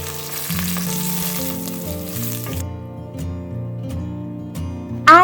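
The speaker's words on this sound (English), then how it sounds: "Add all the whole spices and bay leaves so that their flavors get infused into the" Whole spices and bay leaves fry in clarified butter in a deep hot pan, a constant close sizzle under a background music bed, ending with a brief bright clatter.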